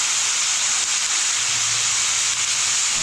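Vegetables and spices sizzle steadily in a hot pan while moong dal is being cooked, a continuous close hiss of frying with no break or talk.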